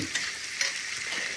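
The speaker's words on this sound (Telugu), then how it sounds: "పచ్చిమిర్చిలు బాగా వేయించాలి." Green chillies frying in a pan for onion gongura pachadi make a continuous bright sizzle with a couple of faint stirring knocks, close and steady, in a short burst with no talk.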